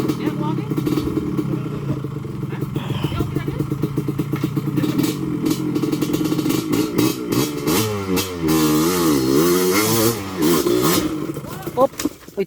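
A trail motorcycle on a dirt trail in Carmen, Cebu revs close by, its pitch swinging up and down in sweeps, while people talk and call out over the engine.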